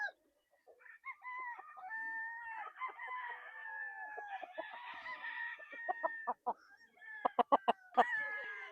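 A sweater gamecock at a gamefarm crowing in a drawn-out call, followed by a run of sharp, rapid clucks, fairly close against a quiet background.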